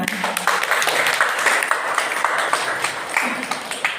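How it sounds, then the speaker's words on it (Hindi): Applause from an audience greeting guests as they arrive on stage at a school retirement ceremony for a headmistress, a steady sustained clapping crowd that runs through the whole stretch. "अतिथि आ गए हैं इस मंच पर, जरा जोर से हो तालियां"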